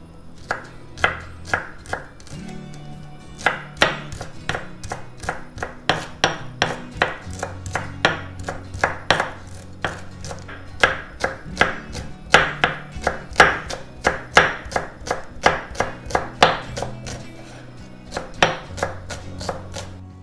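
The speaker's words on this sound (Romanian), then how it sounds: "Acum vom tăia pătrunjelul și cele două fire de ceapă pe care le vom amesteca în smântână." A knife chops parsley and green onions on a board, a long run of sharp, fairly regular thuds, sometimes in quick bursts and sometimes spaced out, close and clear with no voices.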